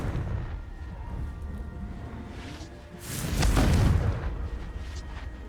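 A Confringo fire spell explodes in the Hogwarts Legacy video game, a loud whooshing burst swelling around the middle and rumbling off over a second or two against a quieter game ambience.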